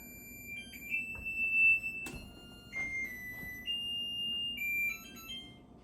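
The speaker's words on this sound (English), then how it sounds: "that timer is off, and now I can go ahead and take this lid off" A kitchen timer goes off during pressure canning of corned beef brisket, sounding a series of shrill electronic beeps in an irregular pattern at moderate loudness, with faint clicks and no speech.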